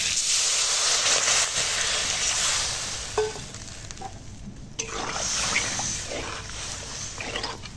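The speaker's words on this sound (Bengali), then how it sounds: "এবার জল দিয়ে দেবো।" Water goes into a pan of fried mango seasoned with turmeric powder and salt, and a steady broadband sizzle shifts and briefly dips midway, with a few soft utensil clinks and no talking.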